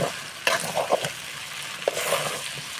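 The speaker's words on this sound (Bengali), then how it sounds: "এখন পাস্তাগুলো ঢেলে দেব" Pasta tipped into a hot pan of cooked chicken pasta sauce sizzles and fries steadily, with a few sharper stirring scrapes and clacks near the start and middle.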